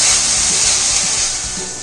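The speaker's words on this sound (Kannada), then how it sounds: "ಈಗ ಇದು 6 ರಿಂದ 7 ನಿಮಿಷದವರೆಗೂ ಫ್ರೈ ಮಾಡಿದ್ದೀನಿ ಎಣ್ಣೆನಲ್ಲೇ ಮೀಡಿಯಂ ಫ್ಲೇಮ್ನಲ್ಲಿ" Vegetables frying in oil on a medium flame for vegetable fried rice, a steady loud close sizzle and hiss with faint soft knocks underneath, no talk.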